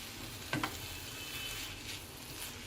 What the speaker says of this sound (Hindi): अब मैं सारी चीज़ों को अच्छे से मिक्स कर लूँगी